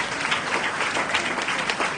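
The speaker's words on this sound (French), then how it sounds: "je vous demande d'applaudir très chaudement l'arrivée des ministres" A seated audience at a silver wedding anniversary celebration applauds warmly as ministers arrive, a dense, steady wash of clapping filling the room.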